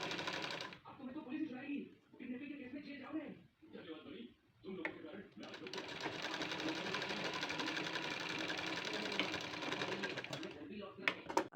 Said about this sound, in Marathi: त्यासाठी व्यवस्थित लक्ष करून सावकाशरित्या तुम्ही इथे जोडून घ्यायचं आहे. तिन्ही भाग एकमेकांना व्यवस्थित असे जोडून घ्या.